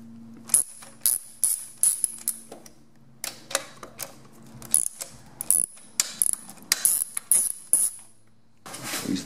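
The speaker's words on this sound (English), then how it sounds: "Use the little 8mm wrench on these." A small 8mm wrench ratchets on dirt bike bolts, giving bursts of sharp, quick clicking that repeat in short runs with pauses between, close up and loud in an otherwise quiet space.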